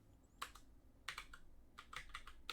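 Someone types on a computer keyboard in a few quiet bursts of sharp clicks with short pauses between them, heard close up and without speech.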